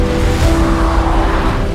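Busy road traffic streams past near a viaduct on a pilgrimage route between Coímbra and Albergaria-a-Velha, a loud, continuous rush of vehicles with a steady engine hum and tire noise.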